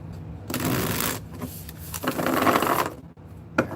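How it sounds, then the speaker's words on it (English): Tarot cards are shuffled close by during a weekly reading, giving two longer riffling passes and a short final burst with no talking. "That's a good shuffle."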